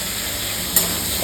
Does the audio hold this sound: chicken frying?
yes